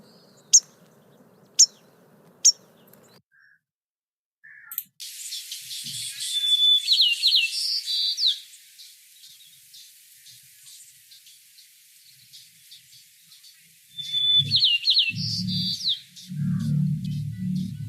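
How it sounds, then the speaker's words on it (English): White-crowned sparrow calls and songs: three sharp separate chip calls first, then two bright, clear whistled songs with buzzy trills, fairly close, with some low rumbling noise between songs. "So what you heard was examples of calls and songs of a white-crowned sparrow."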